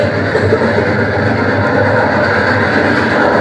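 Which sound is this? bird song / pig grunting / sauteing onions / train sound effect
train sound effect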